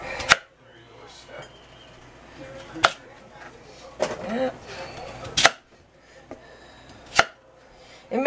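Sharp knife chops land on a cutting board, a handful of separate strikes spaced irregularly, close by, with faint talking in between.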